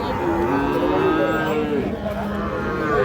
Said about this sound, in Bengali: আমরা এই পাশে একটা শাহিওয়াল ষাঁড় বাছুর দেখছিলাম